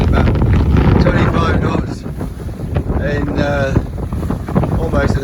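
Strong wind of about 25 knots buffets a sailing yacht at sea, a loud continuous roar and rumble across the whole clip with the boat's motion beneath it, while voices talk over the noise.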